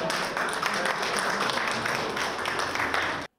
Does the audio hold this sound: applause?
yes